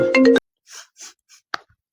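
A phone ringtone plays as a short melodic burst of bright electronic tones at the start, followed by a few faint scattered blips and soft noises.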